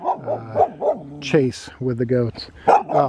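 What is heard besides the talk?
dog barking at a cat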